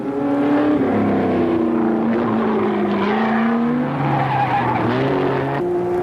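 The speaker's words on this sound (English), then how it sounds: "The Porsche Carrera 6s are impressively fast." Porsche Carrera 6 race cars at speed in the 1966 Sebring 12-hour endurance race, engines wailing with shifting pitch as they sweep past, and tires squealing throughout, loud and continuous.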